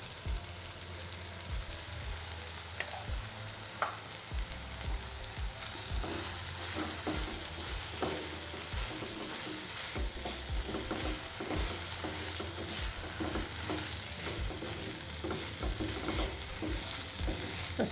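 Minced soybean bhurji cooking in a pan over low heat, a quiet, steady frying hiss with regular stirring scrapes heard up close.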